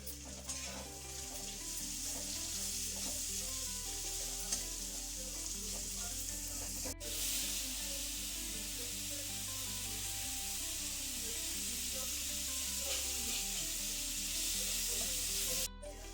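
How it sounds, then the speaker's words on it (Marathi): Onions with salt sautéing in oil in a pan for an okra dish, a soft, continuous sizzle close by with occasional light stirring scrapes and one sharp click, fairly quiet and steady with no talk. "आपला कांदा पण चांगला परतून झालेला आहे"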